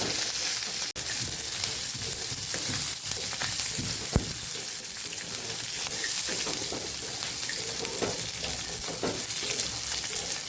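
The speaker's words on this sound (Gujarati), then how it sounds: "હવે ડુંગળી સાતરી લેશું આપણે ગ્રેવી માટે તૈયારી કરીએ છીએ" Chopped onions sauté in a hot pan as the base for a gravy for a bitter gourd dish, giving a steady close sizzle with occasional stirring scrapes throughout.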